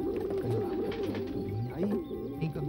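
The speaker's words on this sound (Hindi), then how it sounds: "अरे ये पक्षी महोदय" A pigeon or dove coos in repeated low, rolling phrases, fairly close and steady, with faint background sound beneath.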